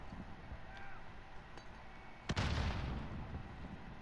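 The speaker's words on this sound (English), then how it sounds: "Throwing grenade." A grenade goes off in a multiplayer shooter match: a sharp, loud single blast followed by a rumbling, decaying tail, after quieter ambient game sounds.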